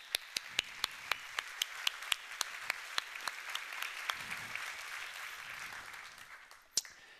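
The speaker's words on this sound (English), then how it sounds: "So I like to give a big applause for the Medicine Folks doing this again." A conference audience gives warm, continuous applause, with a few sharp, loud claps from a nearby pair of hands standing out in a regular rhythm over the crowd.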